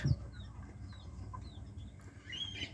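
A small Sebright bantam hen clucks softly, with a few faint, scattered calls over a low background hum.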